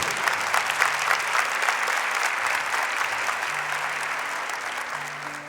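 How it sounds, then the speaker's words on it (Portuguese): Church congregation applauding during a Catholic Mass, a dense, steady wash of clapping from many hands that holds at an even loudness throughout, with faint sustained organ or keyboard tones underneath. "Pode aplaudir o Senhor"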